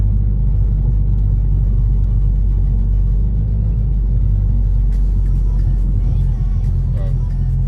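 Ford Focus engine fitted with a K&N air filter, heard from inside the car as a loud, steady low rumble that continues throughout, with a few faint clicks and rattles toward the end.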